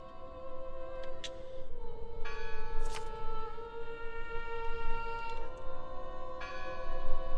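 Church bell in the video game Draugen, several clear metallic strikes with long ringing tails over a low steady hum, moderately loud and spaced irregularly across about seven seconds.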